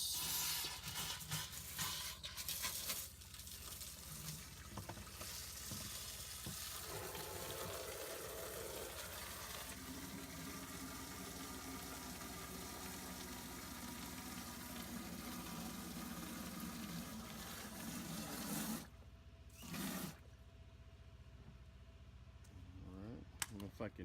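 Water gushes into an empty backpack sprayer for over fifteen seconds, a steady close rushing fill with a rising hollow tone, bracketed by clatter and handling noises at the start and end.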